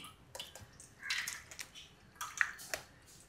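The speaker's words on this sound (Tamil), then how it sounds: "எப்படி தண்ணி வடியுது பாருங்க." Water drains through a filter in a kitchen with soft, uneven trickles and gurgling splashes, fairly faint and close, in a few short bursts.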